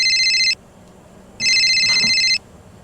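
An electronic telephone ring sounds in two bursts, each about a second long, separated by a short pause. The warbling tone is loud and close, with no talk over it.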